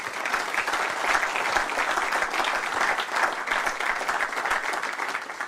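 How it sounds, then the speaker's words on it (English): A seated audience at a spring community banking forum gives panelists a sustained round of applause, dense steady clapping from a full room that holds for several seconds without pause. "Let's give our panelists another round of applause."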